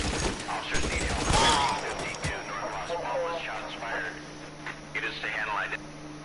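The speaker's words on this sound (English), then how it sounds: "Tommy gun. I love Tommy guns" Tommy gun fire in the video game L.A. Noire: dense rapid bursts crackle loudly through the opening two seconds, then fade under a voice talking over a steady electrical hum.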